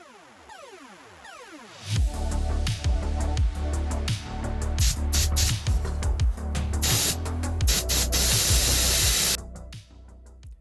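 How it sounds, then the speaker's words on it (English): A spray gun atomizes thinned Macragge blue acrylic paint mixed roughly half and half with water, a steady close hiss with rapid sputtering bursts that starts after a quiet moment and runs for several seconds before stopping. "I loaded up the spray gun with some thinned Macragge blue, approximately a 50-50 paint to water ratio"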